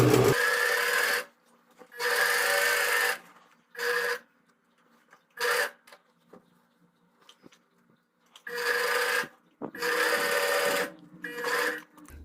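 Sewing machine running along a jeans waistband, several loud close bursts of rapid stitching separated by silent pauses, with small handling clicks between runs.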